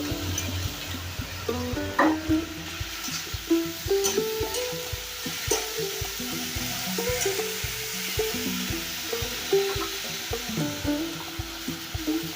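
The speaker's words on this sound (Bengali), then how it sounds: "বেগুনটা অল্প তেলেই ভাজছি।" Eggplant pieces sizzling in a small amount of oil in a pan, soft steady crackle broken by repeated stirring clatters, fairly quiet and close with no talking.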